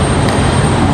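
A Spirit Airlines airliner on final approach at Raleigh-Durham airport, a steady loud engine roar filling the whole second without breaks, no voices over it.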